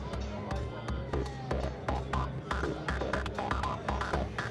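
A looping synth drum pattern run through a filter and then a delay, filtered and echoing, pulses steadily and fairly loud throughout.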